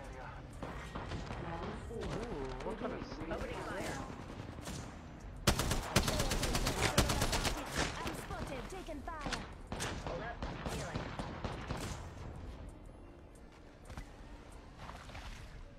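Bursts of gunfire ring out in an Apex Legends match, rapid automatic volleys and single shots layered with game effects, while players talk over the action throughout.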